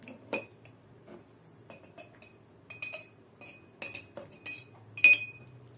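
A spoon adding solution into a cup, with a run of light metallic clinks and taps on glass, scattered and close, faint between the hits.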